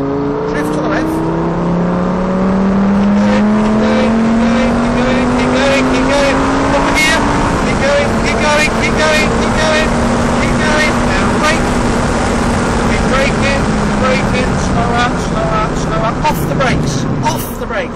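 A Lamborghini Gallardo engine is held at full power through a drift, giving a loud, sustained roar whose pitch climbs and sweeps steadily for the whole stretch and never drops away.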